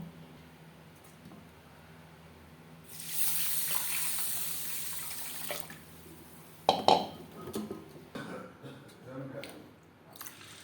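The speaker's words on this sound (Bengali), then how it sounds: "মুগ ডাল আমি ডাই রোস্ট করে নিয়েছি পরিষ্কার করে ধুয়ে নেব" Moong dal, dry-roasted beforehand, being rinsed under running tap water in a kitchen sink, a steady rushing gush for a few seconds followed by clattering splashes and handling of the wet lentils, with background hum throughout.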